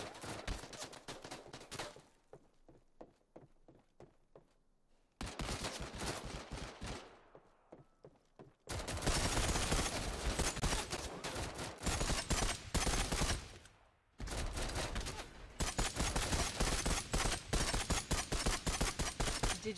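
Bursts of gunfire from the Android FPS game Disorder, loud and dense, firing in several volleys separated by brief pauses, with rapid repeated shots throughout and no talking.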